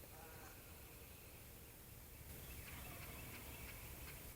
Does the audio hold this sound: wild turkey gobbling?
yes